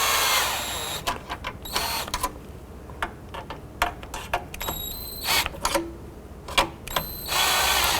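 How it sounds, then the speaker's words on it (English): Ratcheting and clicking as bolts are snugged down on a battery hold-down in a 2007-2011 Honda Civic, short irregular bursts of metallic clicks with brief pauses, close and fairly loud, no talking. "we'll go ahead and tighten these bolts up"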